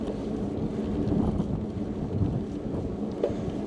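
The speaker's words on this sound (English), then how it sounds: "So, wind's blowing a little bit at me right now." Outdoor wind buffets a wireless UHF lavalier microphone, giving a steady low rumbling roar with gusty swells and no voices throughout.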